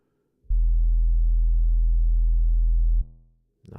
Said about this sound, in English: Sounds like a sub.